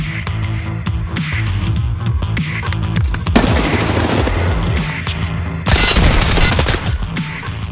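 Escape from Tarkov gameplay with an MP5 submachine gun firing loud, sharp bursts of automatic shots in irregular clusters, with heavier sustained volleys toward the end, with no talking.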